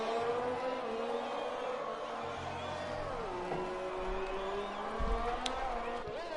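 Mercedes Formula 1 car engine in F1 2020 on an onboard lap in Canada, a steady high-pitched drone with a gear shift dip midway, running continuously under commentary.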